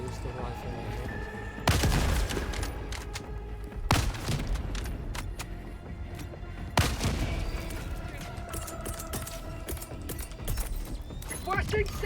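Rifle gunfire in Helldivers 2: a few loud, sharp shots at about 2, 4 and 7 seconds stand out over a dense, rumbling battle bed with scattered smaller impacts and someone talking at times.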